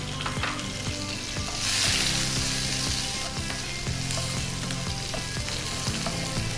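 Onions and chillies frying in a pan for a Kannada cooking show, a steady close sizzle with spatula scrapes and clicks throughout, briefly louder in the middle.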